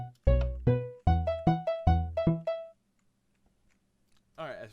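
Minecraft note blocks play a short plucked tune of about eleven bright, evenly decaying notes over two and a half seconds, followed by a quiet stretch and a brief burst of another sound at the end.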